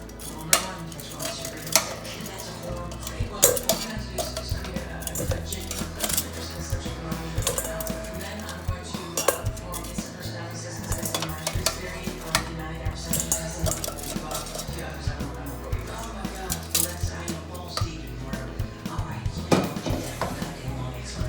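Cooked Asian-style chicken wings from an air fryer are tipped into a bowl in a busy kitchen, with steady clinks and clatters of dishes and utensils throughout and a faint voice in the background.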